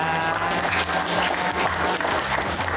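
Steady, dense applause from a crowd, continuous clapping throughout with no breaks.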